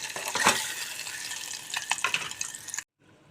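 Peeled boiled eggs fry in a little oil, giving a close, steady sizzle broken by stirring scrapes and small clinks before cutting off abruptly to near silence.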